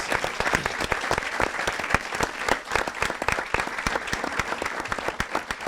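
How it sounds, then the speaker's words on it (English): An audience gives loud, sustained applause for student actors at a media night screening of a web series, with dense overlapping claps running steadily throughout and no break. "let's just give a big round of applause for all the students who participated, all our actors"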